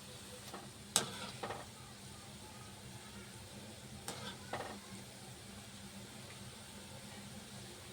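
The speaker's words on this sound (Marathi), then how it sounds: "हे आपल्याला छान असं ब्राऊन होईपर्यंत चांगले मंद आचेवर तळून घ्यायचे आहेत" Gulab jamun dumplings frying in oil over a low flame, a soft, faint continuous sizzle with a few brief clinks and stirring bumps.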